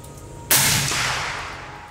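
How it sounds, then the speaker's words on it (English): A Howa rifle chambered in .300 Win Mag fires a single shot on an outdoor range: one sharp, loud crack that rolls off into a fading echo after a quiet start. "We'll see how it does. Send another one, Ben."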